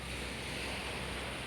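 Sea waves on a shore in calm weather, a steady, broad wash of surf with a faint wind hiss, continuous and moderately quiet throughout the brief moment.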